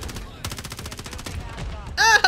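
Call of Duty gunfire with aim assist off, rapid repeated shots in loud bursts through most of the moment, ending in a sharp, brighter volley; a voice is faintly present.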